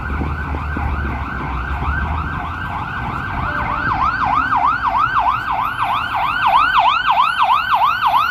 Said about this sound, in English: Got our first sirens of the stream.